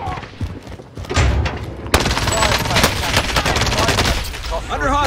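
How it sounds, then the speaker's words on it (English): Bursts of automatic gunfire in Call of Duty Warzone Resurgence, loud overlapping shots and thuds filling most of the clip, with game voice lines and chatter mixed in toward the end. "I'm hit. Under hostile fire."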